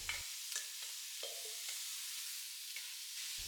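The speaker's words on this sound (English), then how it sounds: "Give that a little saute so it starts to absorb all of those flavors." Cooked tripe sautéing with aromatics in a pan for Jamaican curry tripe and beans, a faint steady sizzle broken by several light scrapes and taps of stirring.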